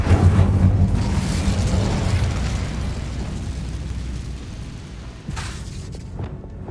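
An Incendio fire spell in Hogwarts Legacy sets off a loud, sustained roaring blast that rumbles heavily at first, then thins into a crackling hiss, with a brief whoosh near the end.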